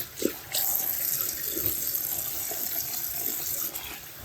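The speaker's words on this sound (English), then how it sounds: "So our formerly slow drain is draining much faster now" Water runs steadily from a tap into a bathroom sink and drains away freely through a once-slow drain just cleared with a plastic zip strip, a continuous close rushing flow with a few small splashes and knocks at the start.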